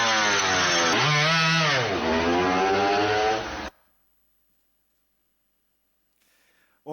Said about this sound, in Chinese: 所以我们加入了模拟引擎音